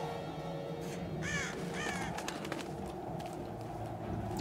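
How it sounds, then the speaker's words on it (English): Crows cawing in the Tomb Raider video game: two clear raspy caws about half a second apart, followed by quieter flapping and rustling sounds over a steady ambient background. "Damn birds."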